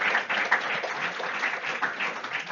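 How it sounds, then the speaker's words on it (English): Audience applause after a clinical pharmacy lecture, a steady wash of many hands clapping for about two and a half seconds with no talk over it. "Give a round of applause to Kevin."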